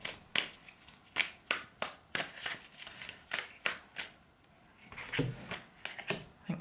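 Tarot cards are shuffled and drawn by hand: a quick run of close, crisp riffling slaps and snaps in an uneven rhythm, with a brief pause before the shuffling resumes, quiet and without talk.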